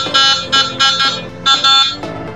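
Horn of a budget three-fold electric scooter honking in five short, loud buzzy beeps with brief gaps, close by and alone.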